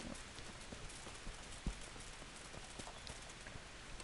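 Horse hooves clip-clop at a steady walking rhythm in the medieval game Kingdom Come: Deliverance, faint and quiet over a soft background hiss, with one brief louder knock partway through.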